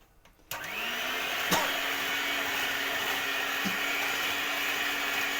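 An electric mixer whisks red velvet sponge cake batter, its steady, loud motor whir kicking in after a brief quiet start and holding constant throughout, with no talking.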